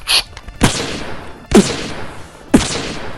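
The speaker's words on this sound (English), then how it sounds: "slammed that Z button down like crazy, we were not expecting a fucking gunshot to go off" Three sharp, loud gunshot cracks from the Tiger Woods golf video game on GameCube, spaced about a second apart, each with a short echoing tail.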